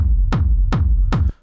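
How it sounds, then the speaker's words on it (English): A sampled kick drum for industrial techno thumps three times at a steady pace, each hit a sharp click falling into a deep booming tail over a constant low rumble, cutting off abruptly at the end. "And then finally the last kick, which is like this, just a sample."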